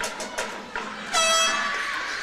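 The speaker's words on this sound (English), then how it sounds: "I heard like an air horn go off about the time he went to shoot" A loud, sustained air horn blast sounds in a school gym during a basketball game, following a few brief crowd noises and holding steady to the end.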